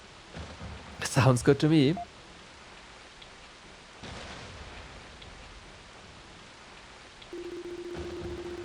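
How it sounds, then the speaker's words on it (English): Steady falling rain under a faint low rumble of thunder, soft and continuous, with a brief burst of chirpy game-like sound early on and a short spoken line. "Only the sound of the falling rain and constant thunderclaps could be heard echoing through the darkness"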